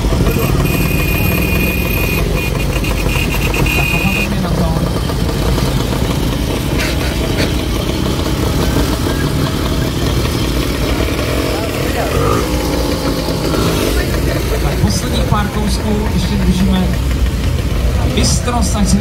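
Tractor engines run steadily at a Czech tractor event, Železnohorský traktor 2023, a loud low mechanical drone lasting throughout, with a crowd and an announcer talking over it.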